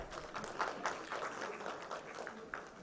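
Workshop audience at an e-mobility and sustainable transport event claps steadily for a speaker, a faint, even spread of many hands at a distance with no break.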